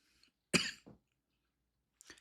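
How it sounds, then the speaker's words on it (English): A single sharp cough, with a smaller follow-up burst just after and another faint one near the end, in an otherwise quiet room. "Sorry, this cough is killing me."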